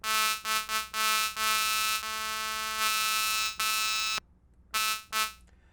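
A lead synth tone sampled from a Behringer Model D and played back on a PO-35 Speak pocket sequencer: a bright, buzzy, harmonically rich held note in choppy on-off bursts, with one brief silent gap near the end.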